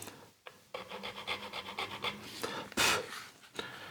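Metal file rasping in a nut slot on a Stratocaster partscaster build, in a run of short, rhythmic back-and-forth strokes, close and fairly quiet, with a louder, brighter scrape near the end.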